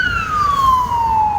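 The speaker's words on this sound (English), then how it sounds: "Oh, not police, ambulance, sorry." An ambulance siren sweeps past, loud and close, with a single steady tone gliding slowly downward as it passes, over road noise.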